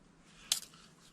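A single quick snip of scissors cutting off excess yarn while finishing a crochet shawl, a brief crisp cut against a quiet room.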